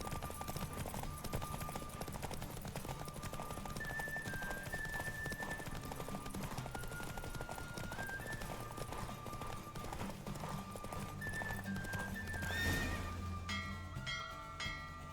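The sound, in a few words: horse galloping in a video game horse race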